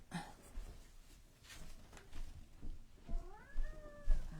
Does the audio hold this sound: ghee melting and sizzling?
no